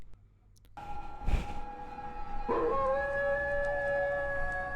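A dog howls close by, a long wavering tonal howl that rises and holds with steady harmonics, beginning after a brief sharp knock and sustained to the end, with no talk over it.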